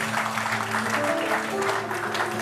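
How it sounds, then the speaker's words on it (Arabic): Studio audience clapping in a big round of applause, steady and sustained across the moment, with a faint tonal hum running underneath. "أعطوني تصفيقة كبيرة"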